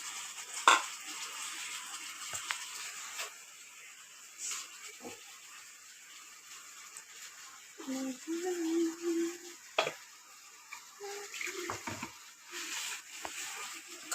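Utensils clink and knock against each other in a home kitchen as they are washed, with water poured and splashing between soft scrapes, moderately close and fairly quiet, with no talking.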